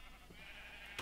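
A light blue sheep bleats in the video game Minecraft, one brief, quiet bleat over a faint background.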